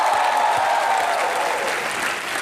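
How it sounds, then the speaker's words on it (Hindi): A studio audience at a comedy show recorded in Dubai gives a loud, sustained burst of applause, dense clapping holding steady throughout and tapering slightly at the end. "एक बार फागुनी पाठक के लिए जोरदार तालियां होनी चाहिए।"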